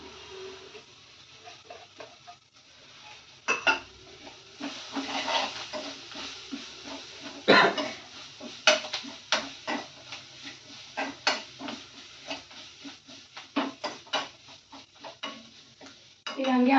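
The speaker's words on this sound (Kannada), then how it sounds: "ಎಷ್ಟು ಬೇಕಲ್ರಿ ಅಷ್ಟು ಎಣ್ಣೆ ಹಾಕೊಂಡು ಫ್ರೈ ಮಾಡ್ಕೋಬೇಕು" Chopped coriander and fenugreek greens are stirred and fried in oil in a pan, giving a soft continuous sizzle broken by frequent scraping and clinking strokes of the spoon against the pan.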